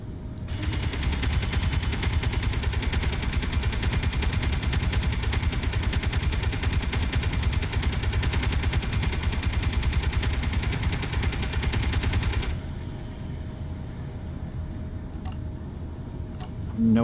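Sustained automatic gunfire in the space sandbox game Space Engineers, a dense rapid stream of shots that runs loud for about twelve seconds, then cuts off, leaving a quieter hum with a few faint clicks.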